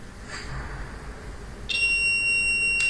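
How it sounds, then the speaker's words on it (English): An electronic temperature-sensor alarm buzzer, triggered by a candle flame, sounds a steady high-pitched beep over a faint background hiss, starting partway through and continuing to the end. "the buzzer has started up, and till it again comes back to the normal temperature, the buzzer will remain beeping"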